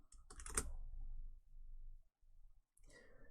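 Quiet typing on a computer keyboard, a few short bursts of close key clicks separated by brief pauses.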